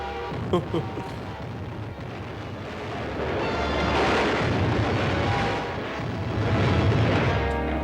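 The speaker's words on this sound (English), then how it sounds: "Big stuff blowing up everywhere." Explosions in a movie rumble and roar in heavy, overlapping bursts, a dense, loud wall of booming blasts that swells in waves, with a voice briefly heard.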